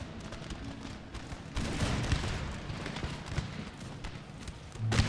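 Musket volleys crackle through a Napoleonic-era battle in Empire Total War, with Russian infantry and mortar fire nearby: dense, continuous rolling gunfire that swells louder midway, with scattered sharper reports and a heavy burst near the end.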